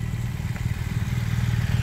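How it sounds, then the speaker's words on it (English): Motorbikes ride around a scenic corner on a Scottish road, a steady low engine drone with light clatter that stays fairly loud and constant, without any talk. "get a shot of the guys riding around a pretty corner on their bikes"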